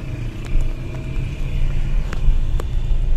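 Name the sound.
car driving onto a new bridge in Chitral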